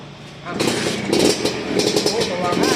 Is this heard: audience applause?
no